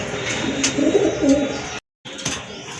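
A pair of pigeons give soft, throaty cooing close by, rising and falling against a steady background hiss, with one brief dropout of sound.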